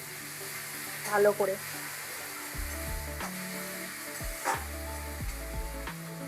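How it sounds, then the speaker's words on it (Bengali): Spices fry with onion and tomato in a pan for a spicy Bombay duck curry, giving a soft steady sizzle with scraping stirs and a brief spoken remark partway through. "এর মধ্যে মশলাগুলো দিয়ে একটু কষবো"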